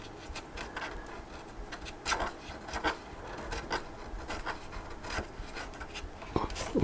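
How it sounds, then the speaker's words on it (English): Hand sanding of a small wooden part on a SIG Kougar model aircraft build, with soft, quiet, irregular rubbing and rasping strokes, close by and faint. "You can use a knife, which I'm probably going to do just to get it down a little quicker. And I'll sand it in the rest of the way."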